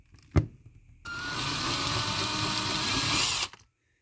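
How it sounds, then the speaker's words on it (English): A sharp click, then a small power drill whirs steadily for a few seconds drilling out the posts on a Hot Wheels toy car, before stopping abruptly, close up with no talking. "And when you're drilling these posts out"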